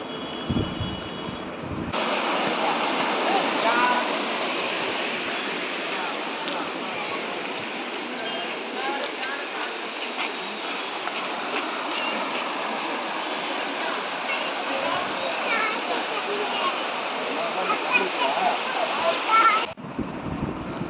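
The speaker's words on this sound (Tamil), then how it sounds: "வாங்க போய் அருவியை பார்ப்போம்." Steady broadband rushing water from Muttal Waterfalls roars throughout, loud and continuous, with a brief quieter moment at the start and end.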